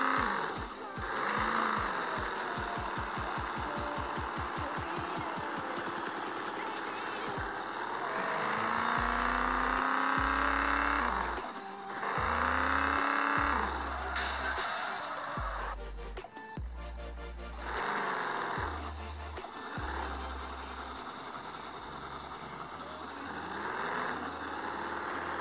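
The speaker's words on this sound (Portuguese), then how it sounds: "vamos acelerar esse carro. É. Acelerando mesmo" BMW i8 sports car accelerating in the Carros Rebaixados Online driving game, a steady loud engine drone rising and falling in pitch through repeated gear shifts, with deep low thumps, likely music bass, under it throughout.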